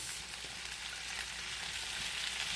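Sausage, peppers and onions frying with potatoes in a slightly crowded pan, a steady, even sizzle that holds throughout without any voices.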